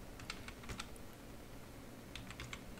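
Fingers tap out commands on a computer keyboard in two short clusters of quick, light keystrokes separated by a pause, faint over a low background hiss.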